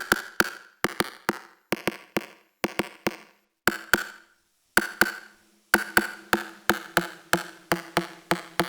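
Side stick and rim shot hits from a drum module, sharp dry clicks struck in quick clusters of two to four with brief gaps between groups, close and clean.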